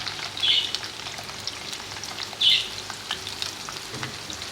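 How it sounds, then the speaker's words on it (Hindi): Onions fry in half a cup of oil in a frying pan, giving a steady close sizzle and crackle with a couple of louder bursts of spitting, and no one speaking. "एक फ्राई पैन हमने ले लिया, उसमें हम आधा कप ऑयल डालेंगे। इसमें अपने प्याज शामिल कर देंगे।"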